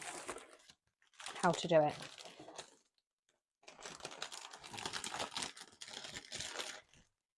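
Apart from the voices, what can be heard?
roll of cellophane being handled for wrapping a bouquet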